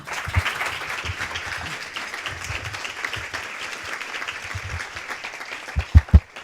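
Steady applause from a large audience, a continuous wash of clapping with a few louder, closer claps near the end.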